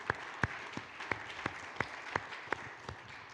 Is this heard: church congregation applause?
yes